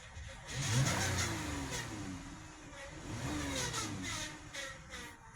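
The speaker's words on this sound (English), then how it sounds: "That's a transmission pump failure." A car engine runs and revs unevenly, with a whining, grinding noise from a failing transmission pump on a 62TE transmission rising and falling over it, close and fairly loud.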